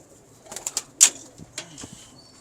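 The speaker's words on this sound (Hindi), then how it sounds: "ये मेरे कमगर कबूतर हैं।" Kamgar pigeons coo softly in a few short, separate calls, quiet and close, with a slight rustle between them and no talking.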